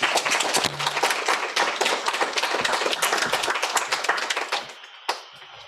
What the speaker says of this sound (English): keep the applause going for Abel